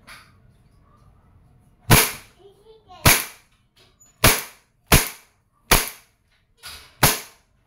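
Umarex M92A1 airgun pistol firing seven sharp, loud cracks at roughly one-second intervals until the slide locks open, each shot close and distinct against a quiet background.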